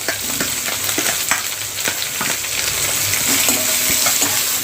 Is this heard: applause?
no